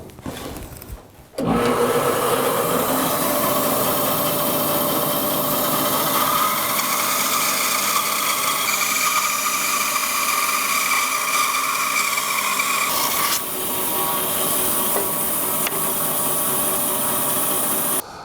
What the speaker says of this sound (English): I'm going to be cutting this 3/4 of an inch thick piece of wood down in half